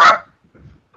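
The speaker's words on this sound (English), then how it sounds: "excuse the little dog." A little dog gives a single sharp, loud bark close by on a New Zealand farm, followed by faint low background rustle.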